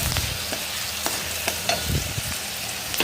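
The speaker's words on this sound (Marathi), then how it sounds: "आता त्यानंतर लगेच थोडंसं मिरची फ्राय करून घेतलं" Green chilies fry in ghee for a potato and peanut khichdi, giving a steady close sizzle with occasional stirring clinks and scrapes from the pan.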